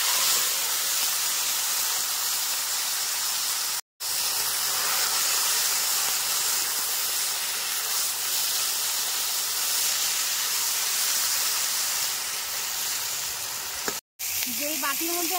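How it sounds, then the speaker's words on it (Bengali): Pieces of sea fish sizzle loudly in hot oil with torn dried chili, kalonji and spices, a steady close frying hiss broken by two short gaps. "এবার তুমি সামান্য করে কালি জিরা, মশলা দিয়ে মাহেরা মাছটা এবার দিয়ে দেবো"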